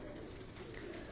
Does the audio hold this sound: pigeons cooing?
yes